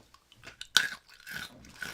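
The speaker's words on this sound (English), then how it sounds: "Very crunchy. so crunchy." Freeze-dried Skittles being bitten and chewed up close: one sharp, loud crunch followed by several smaller crackling crunches over about two seconds, with no talking.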